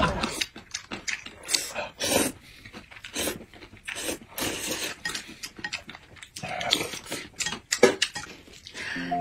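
A spoon scrapes and clinks rhythmically inside a cup of stir-in yogurt with fruit pieces and oat flakes, a close series of wet scraping strokes and taps.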